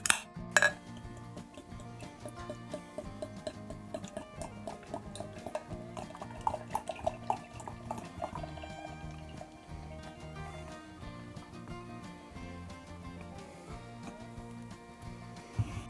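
Paulaner Oktoberfest beer, 6%, is poured into a glass: a steady trickle of liquid with scattered glassy clinks and knocks, close and moderately quiet throughout.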